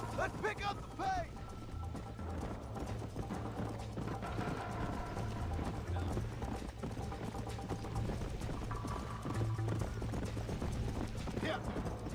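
Hooves of a horse in the video game Red Dead Redemption clop in a steady rhythmic gait under game music and ambience, with a brief whinny and a voice speaking over it.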